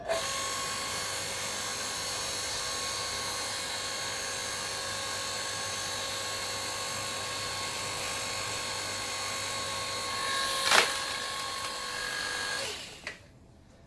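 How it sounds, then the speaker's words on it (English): A hydraulic log splitter runs with a loud, steady mechanical whine and hum while its ram pushes into a log, then comes a brief sharp crack near the end before the sound cuts off. "Now, I'm going to pull the handle for the hydraulic, ready for the ram to move."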